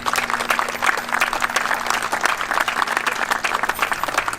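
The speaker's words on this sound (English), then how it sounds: "could you please stand for applause?" A ceremony crowd at a Centerville ribbon cutting gives dense, steady applause for the construction partners, a continuous wash of many hands clapping with no break.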